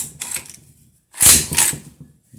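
A steel bolt slides into a Hatfield SAS shotgun during reassembly, giving a short metallic scrape, a pause, then a louder sliding clack and a faint click close to the microphone.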